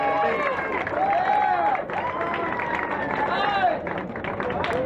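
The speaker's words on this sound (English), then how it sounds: "Let's give him a big round of applause." Audience applause and cheering at a Hollywood Walk of Fame ceremony, a dense crowd clapping continuously with voices mixed in.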